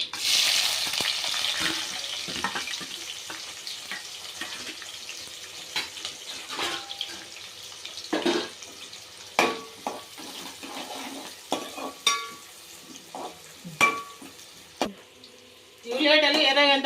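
Onions and whole garam masala fry in a pan with a steady sizzle. Irregular scrapes and clanks from stirring punctuate it, and a louder burst of frying comes at the end.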